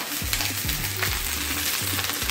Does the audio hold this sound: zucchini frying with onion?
yes